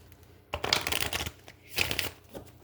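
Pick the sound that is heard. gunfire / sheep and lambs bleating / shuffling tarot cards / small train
shuffling tarot cards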